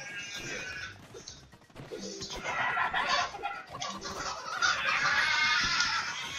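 Cartoonish chickens in the video game Moving Out squawk and cluck in busy, overlapping bursts alongside clattering game effects, with a player's voice heard briefly over the noise.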